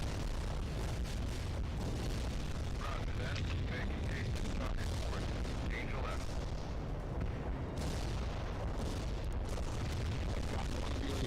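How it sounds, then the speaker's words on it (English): A cluster bomb goes off in a war video game, a continuous rolling rumble of overlapping booms and crackling blasts, steady and heavy for the whole stretch. "There's a cluster bomb."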